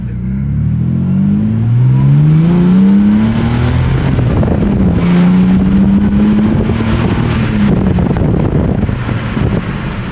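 A Ford FGX Falcon XR6 with a naturally aspirated engine accelerating in third gear, a loud close engine note climbing steadily in pitch, backed by heavy wind and road rumble inside the car, with no one speaking.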